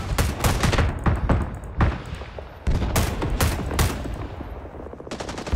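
Dense gunfire in Rising Storm 2: Vietnam, a Vietnam War shooter, with loud, sustained automatic bursts and sharp overlapping shots rattling continuously without pause.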